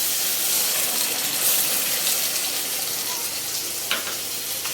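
Steady loud sizzling as a paste of ginger, garlic, onion and green chili fries with mutton mince in a hot pan, continuous hiss with faint stirring clicks.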